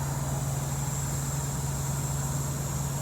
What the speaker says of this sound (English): Yep, somewhere down there, got an air leak.